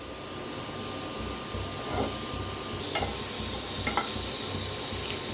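Chopped onion, tomato, green chilli and ginger dry-roast in a kadhai on a gas flame, giving a steady sizzling hiss broken by a few stirring scrapes and clinks.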